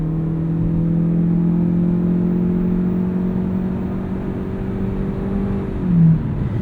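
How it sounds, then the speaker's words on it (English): A 2020 Ford Escape Hybrid SE Sport AWD engine hums steadily and close as it accelerates from a standstill, the tone shifting slightly near the end. "Let's do a little 0 to 60 and see how that works"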